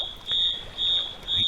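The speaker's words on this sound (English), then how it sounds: "That's an alarm." An alarm beeps in pulsing bursts, a steady high piercing tone swelling and fading about every half second, close and loud above faint background noise.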